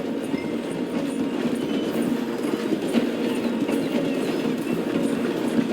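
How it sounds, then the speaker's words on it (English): A train in the Red Dead Redemption video game slows through a station, its wheels and carriages giving a steady rolling clatter at moderate distance, no voices. "The train is slowing down to go through the station."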